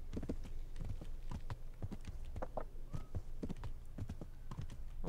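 A horse in Kingdom Come: Deliverance clops along at a steady walking rhythm, its hoof falls soft and close over quiet game ambience.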